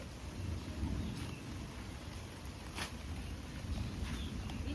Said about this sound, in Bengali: মেঘের ছেয়ে গেছে আর সবে সবে বৃষ্টি পড়া শুরু হয়েছে